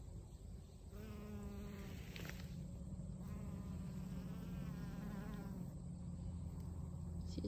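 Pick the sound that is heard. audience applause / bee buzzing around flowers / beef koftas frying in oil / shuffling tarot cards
bee buzzing around flowers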